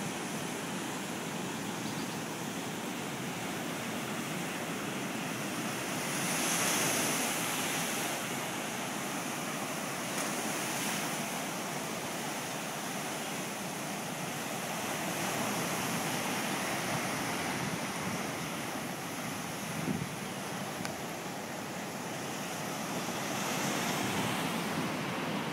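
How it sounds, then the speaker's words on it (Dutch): Sea waves wash continuously on the south coast of Sri Lanka, a broad steady roar of surf with gentle swells and some wind noise, no voices. "Dat is de zee."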